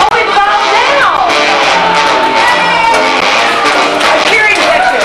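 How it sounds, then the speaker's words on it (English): A studio audience at Universal Studios shouts and cheers in a continuous, dense roar, loud and close, with excited yells and some clapping mixed into the crowd noise. "A cheering section."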